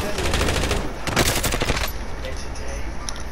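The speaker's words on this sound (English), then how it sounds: "Now we're getting shot" Rapid automatic gunfire from a squad video game, dense bursts crackling close and loud, with a sharp flurry in the middle before it thins to scattered shots, faint voices underneath.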